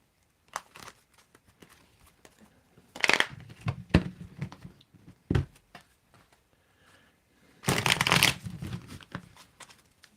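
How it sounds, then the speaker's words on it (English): Playing cards riffle-shuffled close by in several separate bursts, with a long loud ruffle near the end and shorter flicks and taps between, alone without talk. "why don't you tell me when to stop shuffling?"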